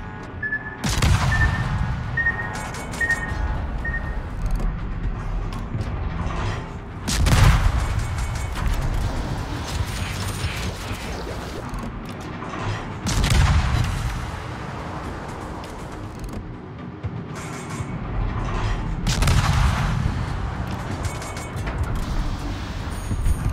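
Warship guns in a naval combat game fire in heavy periodic salvos, each a loud boom with a rolling tail, over a constant rumble of engine and sea noise.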